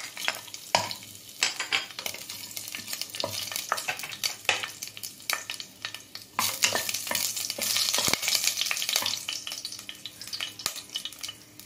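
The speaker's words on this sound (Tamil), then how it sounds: "இப்போ பட்டை கிராம்பு ஏலக்காய் எல்லாம் போட்டுக்கிறேன்." Whole cinnamon, cloves and cardamom fry in hot oil in a pan, with a steady sizzle broken by frequent scraping stirs and clinks of a utensil against the metal, close and clear with no talk.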